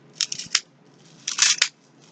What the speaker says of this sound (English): And I just cut this with, like, they're clean scissors. They're my kitchen scissors.